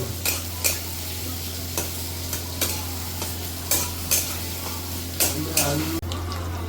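Mutton sizzles in a hot pan while a utensil stirs it, scraping and clinking against the metal in irregular strokes, fairly close.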